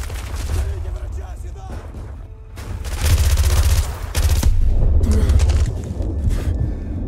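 Bursts of rapid automatic gunfire rattle and crack in Call of Duty: Modern Warfare 2 Remastered, with loud volleys starting and stopping in clusters, shots aimed at the player amid battlefield noise.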